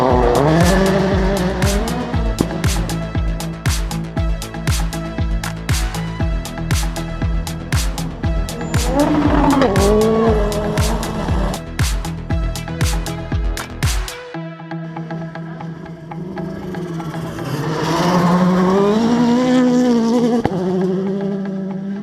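A rally zero car drives past on a road beside a roadside camera, its engine note buzzing and rising loud and near, then cutting off sharply and giving way to a quieter, fading engine sweep.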